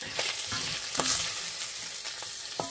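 Turkey browning in a Le Creuset 3.5 sauteuse soup pot sizzles steadily in fat, broken by a few sharp scraping stirs of a utensil, close and fairly loud with no voices.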